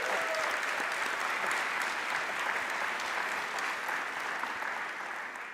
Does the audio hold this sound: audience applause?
yes